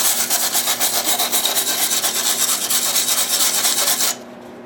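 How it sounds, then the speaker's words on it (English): A wire brush scrubs hard and fast across a cracked aluminum snow shovel, making a loud, continuous rasping scrape with a steady back-and-forth rhythm that stops abruptly near the end. "I'm going to wire brush this inside"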